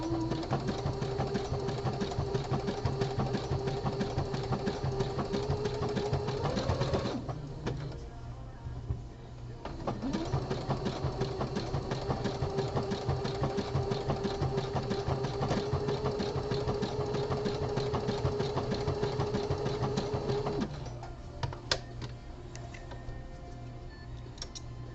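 A home sewing machine stitches the crotch seam of boxer briefs, its motor whirring steadily in close, continuous runs that pause briefly twice before restarting.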